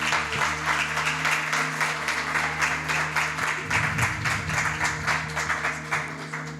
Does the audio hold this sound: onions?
no